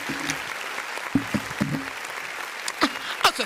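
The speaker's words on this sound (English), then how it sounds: "Let me get some hand claps over here" Audience hand claps at a lively show, scattered sharp claps in an uneven rhythm close by, with voices and crowd noise in the background between them.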